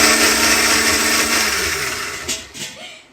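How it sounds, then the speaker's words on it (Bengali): A kitchen mixer grinder whirs loudly and steadily as it purees banana, oats and water into pancake batter, then winds down and stops near the end. "এখানে একটা কলার সাথে 3 চামচ মতো ওটস আর একটু জল মিশিয়ে মিক্সিতে পেস্ট করে নিলেই তৈরি হয়ে যাবে প্যানকেকের ব্যাটারটা।"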